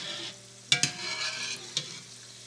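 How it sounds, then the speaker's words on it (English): Kulkul pastries sizzling in a pot of hot oil, a steady close bubbling hiss broken by a few sharp clinks and scrapes as they are tossed and stirred, with no talk. "When frying kulkuls, you've got to constantly gently pick them up and toss them around so that they do not stick to the bottom"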